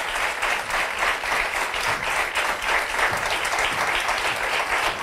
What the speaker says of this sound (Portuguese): muito obrigada e um grande aplauso para a nossa Rita Ribeiro